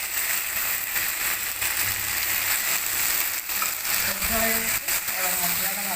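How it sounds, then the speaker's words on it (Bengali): Spices and potato fry in a pan with a continuous loud sizzle and hiss, broken by brief scraping stirs near the end. "এবার মশলাটা ভালো করে ভেজে নেব।"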